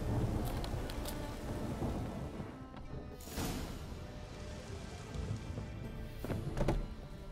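In The Witcher 3, a thunderstorm fills the scene with steady, dense rain and low rumbling thunder. Several brief crackling surges rise over a quiet, continuous wash of downpour.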